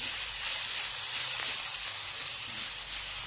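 Roasting masala stirred in a hot pan, a continuous close hiss and sizzle that stays steady, with faint scraping underneath.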